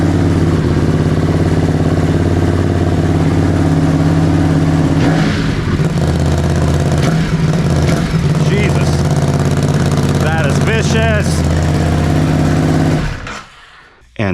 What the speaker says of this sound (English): So let's turn the bike on.